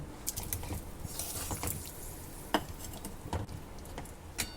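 Fried cauliflower and potato are stirred into a sizzling masala in a pan, scattered scrapes and spoon clinks over a soft, steady sizzle, close and fairly quiet, with no voices.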